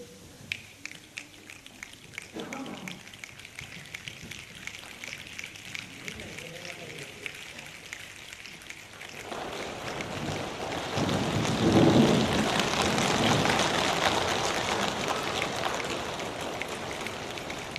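Simulated rain made without real water, as part of a weather-themed music performance for children: a soft patter builds into a loud, dense, rushing roar that peaks and then holds steady, with voices audible in the background.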